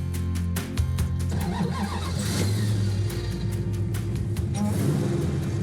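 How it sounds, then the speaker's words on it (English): A Plymouth Superbird fitted with a supercharged Hellcat engine cranks and fires, then settles into a loud, rough idle with sharp revs, heard up close and steady throughout with no talking. "getting ready to take out the Superbird with the Hellcat engine for the first time."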